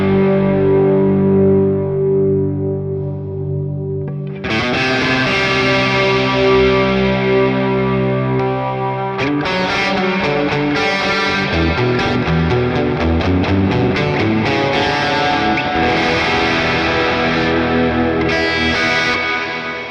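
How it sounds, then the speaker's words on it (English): Electric guitar through a Boss Katana MkII amp, drenched in a swirling, wobbling modulation and spacious reverb, starting with sustained chords and shifting into busier strummed and picked passages. "they've combined a modulation effect with a really nice atmospheric reverb"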